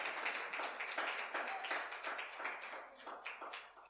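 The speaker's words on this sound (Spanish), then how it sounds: "Démosle un aplauso al Señor en gratitud." A church congregation claps in gratitude during a Spanish-language service, a sharp, uneven patter of individual hands close by, rising and thinning over a few seconds.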